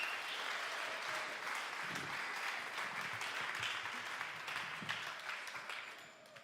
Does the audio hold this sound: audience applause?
yes